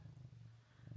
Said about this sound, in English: sorry if you can hear him purring.